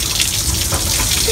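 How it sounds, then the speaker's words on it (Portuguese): Water pours steadily from a bucket during an outdoor bucket bath in Japan, a continuous close splashing gush with no break and no talking. "Cadê eu tomando banho de balde?"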